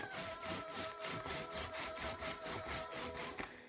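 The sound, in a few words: ink snapping under brayer on linoleum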